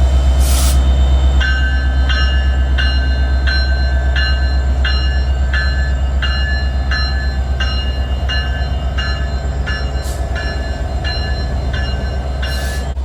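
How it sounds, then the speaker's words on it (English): Canadian National freight train led by an EMD SD70M-2 with an SD70I second unit rolls steadily past on a Quebec mainline, a loud continuous rumble of wheels over rail joints with a regular clacking rhythm and a brief horn-like tone near the start. "The lead locomotive is a General Motors Electro-motive division SD70M-2, and the second locomotive is an SD70I."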